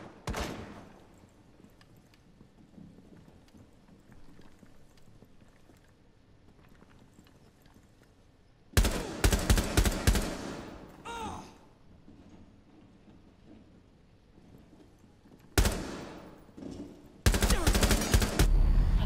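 Bursts of rapid gunfire in Rainbow Six Siege break out after quiet stretches: a long volley, then two shorter bursts near the end.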